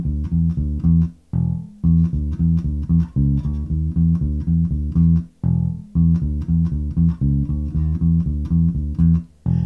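Electric bass guitar working through the first two bars of a riff, repeated twice: a driving, evenly paced line of deep plucked notes with short breaks between phrases, loud, close and solo.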